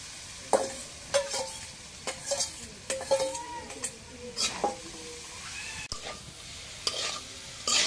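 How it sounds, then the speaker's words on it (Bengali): Leafy greens frying with green chillies and onions in a hot wok, a close sizzle broken by repeated metallic stirring clanks and scrapes. "এখন মরিচ পেঁয়াজ ভাজা হয়েছে, শাকগুলো দিয়ে দিই।"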